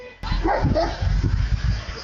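A beagle left in the middle of a street gives short yips and barks, close and fairly loud, with a voice talking over it.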